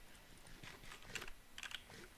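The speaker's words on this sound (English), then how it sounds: "Hopefully you guys can hear the keyboard a little bit." Fingers type on a new computer keyboard, giving quiet, rapid clicks and clacks in irregular bursts that sit close to the microphone with no talking.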